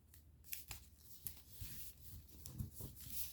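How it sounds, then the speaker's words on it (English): Soft, close rustling and crinkling of paper being petal folded into an origami jet, a few sharp crisp creases and scrapes at irregular moments, quiet and without talk. "you're going to sort of petal fold it"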